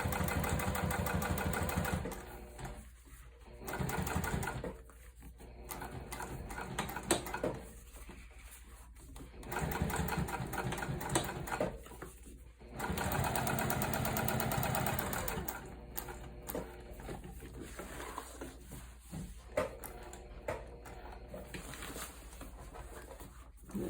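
A sewing machine runs top stitching across a wide tote bag in bursts of steady mechanical whirring, stopping and starting several times, close and fairly loud.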